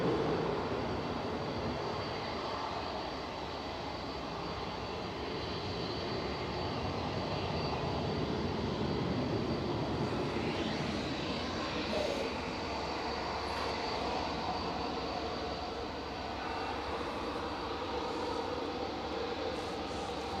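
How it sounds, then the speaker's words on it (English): An Etihad Boeing 787-10 airliner from Abu Dhabi, flight 15, registration A6-BMJ, comes over the threshold to land at Manchester Airport, its engine roar steady and broad throughout with no voices. "Etihad's just coming over the threshold now. This is flight 15 coming in from Abu Dhabi, A6 BMJ."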